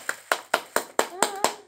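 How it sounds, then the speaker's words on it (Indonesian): Hand clapping, eight sharp, evenly spaced claps at close range with a brief tonal vocal sound between the later claps. "Tepuk tangan."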